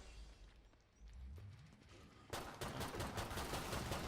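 Rapid bursts of enemy gunfire in a shooter video game, quieter at first, then turning into a loud, dense fusillade at close range halfway through, with no talk over it.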